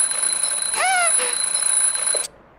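A cartoon alarm clock in the video game Lost in Play rings loudly with a rising, warbling bell-like jingle for about two seconds, then cuts off abruptly.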